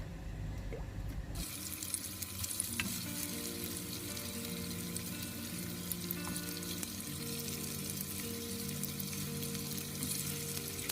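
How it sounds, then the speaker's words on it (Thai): Tofu fries in a little oil in a pan for a stir-fried Hong Kong choy sum dish, giving a steady close sizzle with scattered crackles and light spatters. No one speaks. "เดี๋ยวเราจะมาทอดเต้าหู้กันก่อนนะคะ"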